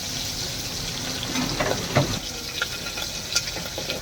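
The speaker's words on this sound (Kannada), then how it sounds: "ಮೆಣಸಿನ್ಕಾಯಿ ಎಲ್ಲ ರೋಸ್ಟ್ ಆಗಿದ್ದಾವೆ." Green chillies roast in a pan on a home stove, giving a soft continuous sizzle. A few clinks and scrapes of stirring are heard, along with occasional louder knocks.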